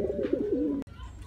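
Male pigeons coo in a loft, a single close rolling coo lasting under a second, followed by a sharp knock and faint background chatter.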